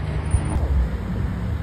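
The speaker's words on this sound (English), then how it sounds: "Defender, and you know that 5-liter supercharged V8 sounds absolutely amazing" Land Rover Defender with a 5-liter supercharged V8 rumbling steadily on a street, a low continuous engine drone blended with passing traffic noise.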